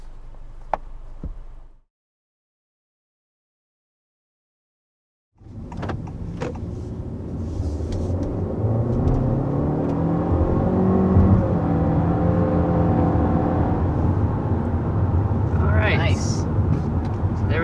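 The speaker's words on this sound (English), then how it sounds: "We are accelerating up to about 60 miles per hour with this all-new generation of the Civic." A 2022 Honda Civic sedan accelerates to about 60 mph. After a brief cut to silence, the cabin fills with a steady engine and road roar whose tone climbs gradually as speed builds, heard from inside the car.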